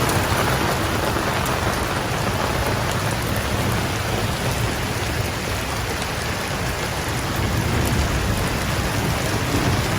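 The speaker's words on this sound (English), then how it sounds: "It is just pouring." Heavy rain pours down over an Alberta garden during a thunderstorm, a dense, loud, unbroken hiss with thunder rumbling beneath it and no voices.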